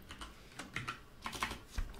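Typing on a computer keyboard, a quick run of close, crisp key clicks in a quiet room.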